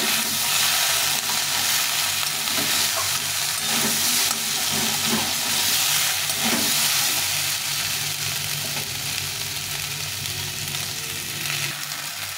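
Vegetables frying in a pan with ginger and radhuni, a continuous close sizzle with occasional stirring scrapes and no voices.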